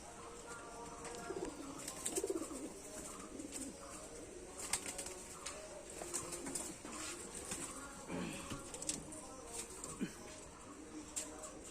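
Pigeons, including champion and old-lineage birds, coo softly and repeatedly in a loft, with light rustling and occasional wing movements, fairly faint, while someone talks over them.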